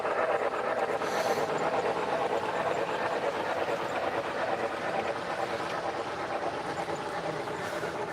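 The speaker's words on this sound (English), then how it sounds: "There's another train over there." A model train runs on a hobby layout at a Christmas display, a steady, fairly faint rolling rattle with continuous background hiss and little variation.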